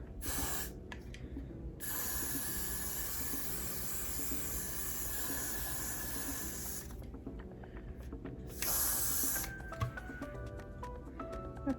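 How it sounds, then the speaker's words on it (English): Long hissing bursts from an aerosol can of wig glue, several sprays separated by short pauses, close by. "I'm going to spray my Got to Be Glued."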